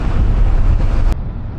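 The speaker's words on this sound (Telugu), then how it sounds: "చల్లగా గాలి వస్తుంది" Wind blowing during a motorcycle ride, a loud low buffeting roar against the microphone that drops abruptly near the end and continues more softly.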